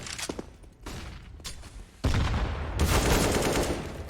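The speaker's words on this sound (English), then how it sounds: "good shot, takes out Hobbit immediately" Rapid gunfire in Counter-Strike on the Mirage map during a NAVI versus Gambit esports match: sparse shots at first, then a loud sustained burst of automatic fire that dominates the second half.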